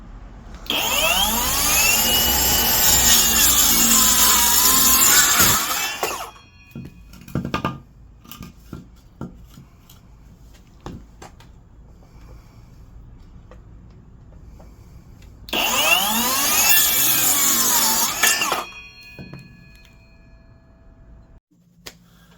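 A Vevor 7-1/4 inch brushless circular saw cuts wood in two loud bursts, a high whining screech for about five seconds, then quieter handling and clicks before a second shorter cut.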